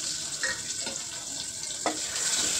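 Chopped onion frying in hot oil tempered with panch phoron spice mix, a steady bright sizzle with a few soft stirring clatters, close and continuous.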